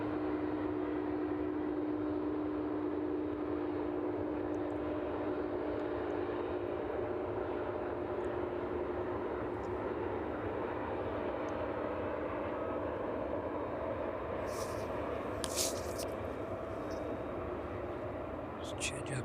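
A Maersk Boeing 767 cargo jet taxis at East Midlands Airport on a chilly evening, its steady engine hum with a droning tone running continuously at moderate distance while a voice speaks softly over it.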